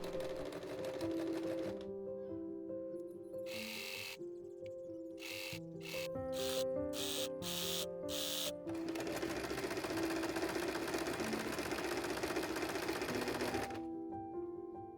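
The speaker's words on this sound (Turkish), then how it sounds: "Üzerinden dikiş geçiyorum." A sewing machine stitches a pleated-collar midi dress in quick bursts of rapid mechanical whirring, stopping and restarting several times before one long continuous run, close and alone.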